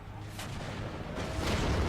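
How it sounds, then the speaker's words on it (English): Grenades going off in a video game battle around a fort, a dense run of muffled booms and blasts at moderate level that swell toward the end. "Chuck some grenades up at them."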